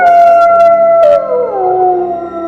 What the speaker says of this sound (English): the long-drawn, cadenced howl of the timber wolf rent the deep silence of the winter night